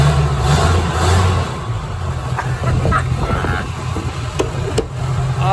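Mud truck engine revving hard as the throttle is worked, a loud close rumbling roar with rising and falling surges and a low steady drone underneath throughout.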